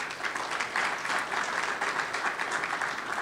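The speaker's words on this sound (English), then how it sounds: "Give him a round of applause." A crowd at a campaign policy breakfast applauds Senator R.J. Palmer, giving a steady, dense round of clapping that holds at an even level from start to finish.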